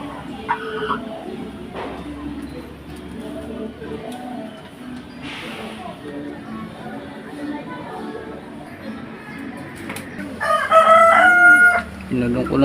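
Rhode Island Red crossbreed and native chickens cluck softly nearby, and a rooster crows loudly toward the end. A person talks intermittently over the birds.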